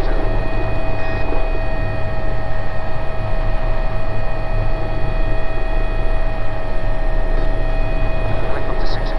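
A Leonardo AW119 helicopter on a power departure: a loud, steady engine and rotor roar that fills the whole clip with no break.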